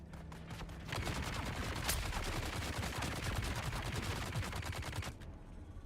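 Sustained rapid gunfire in the video game Dune Awakening, a dense, loud continuous volley of shots lasting several seconds before cutting off.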